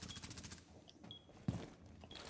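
Gunfire in the video game Rainbow Six Siege on the Hereford map, quiet rapid bursts of automatic shots with a sharp crack near the middle, faint and distant-sounding.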